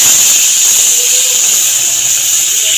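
Spice paste of tomato, ginger and green chilli sizzling in hot oil with cumin seeds, a steady loud hiss that carries evenly throughout with no talk.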